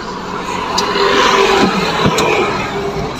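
A car pulling away and accelerating on a drive home from a market, a loud, steady engine roar with broadband road and wind noise, heard from inside the vehicle.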